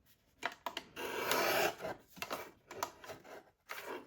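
A paper trimmer slices through a brown paper lunch bag in several scraping strokes, one long rasping pass in the middle with shorter swipes around it, close and fairly quiet with no talking.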